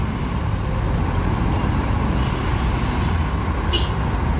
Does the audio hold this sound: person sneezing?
no